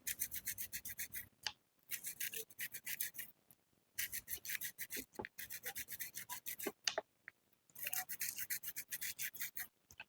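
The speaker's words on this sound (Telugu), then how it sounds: "నేను మన బ్రష్ నార్మల్గా మనం యూజ్ చేసుకునేటువంటి బ్రష్ సహాయంతో నేను శుద్ధి చేస్తున్నాను దీన్ని" A rudraksha bead is scrubbed with an ordinary brush in quick rhythmic bursts of close, soft rasping strokes, broken by short pauses between runs of scrubbing, with no voices.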